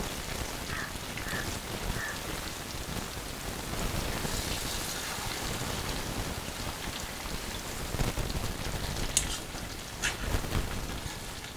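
Pieces of Kerala-style chicken dry fry, coated in Kashmiri chilli powder, crackle and sizzle steadily in hot oil as they are turned over, a dense, even spattering hiss with a few sharper pops near the end.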